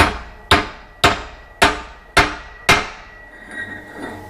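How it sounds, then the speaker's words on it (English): Six sharp hammer strikes on a metal wheel stud at a steady pace, each ringing briefly before the next, close and loud, then fading into a faint resonant hum. "I'm going to take my hammer and I'm just going to start it"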